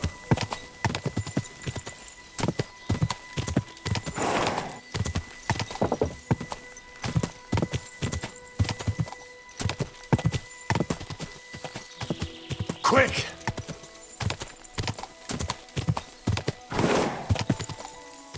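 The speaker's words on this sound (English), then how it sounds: "Beautiful horse." Horse in the medieval game Kingdom Come Deliverance 2 galloping with steady rhythmic hoofbeats, loud and close, while several whinnies and neighs break through and someone briefly shouts.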